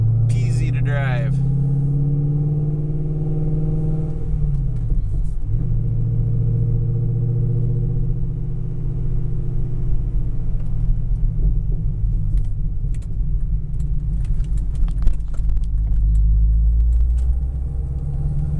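A 2009 Chevrolet Corvette with a six-speed manual cruises along, its engine a steady low rumble beneath road noise, with someone talking over it throughout.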